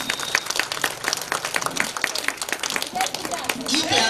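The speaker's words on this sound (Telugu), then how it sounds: "ఒకసారి గట్టిగా క్లాప్స్" Loud clapping from an audience at a devotional Vasavi Mata gathering with Ganesh chants, a dense steady patter with voices mixed in and a surge toward the end.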